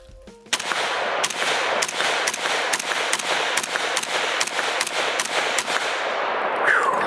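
A VZ58 rifle fires a steady string of about fourteen loud, sharp shots at a regular semi-automatic pace until the last round locks the bolt open, with brief silence after the final shot.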